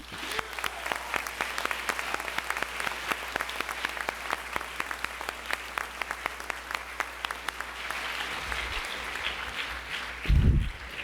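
An audience at a high school spring orchestra concert applauds the orchestra students, a steady, dense wash of many hands clapping that continues for several seconds before thinning out, with a brief louder burst near the end.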